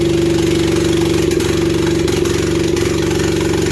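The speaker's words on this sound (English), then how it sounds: "Sounds like the old, sounds like the old Honda needs a muffler, don't it?" An old Honda engine runs loud and steady in a shop, apparently lacking a muffler, with a rough idling drone and a few brief knocks or blips.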